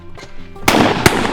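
Two sharp gunshots crack outdoors in the Selkirk Mountains, one loud and one shortly after, over quieter rhythmic background sounds.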